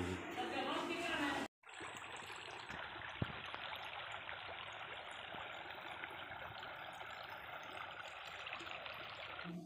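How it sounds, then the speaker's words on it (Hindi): A shallow stream flows through a semi-drainage channel with a continuous rushing, gurgling wash, while voices talk nearby. "ये ढंड है यानी सेमी पानी है, सेमी नाला है, उधर से गुजर कर आते हैं।"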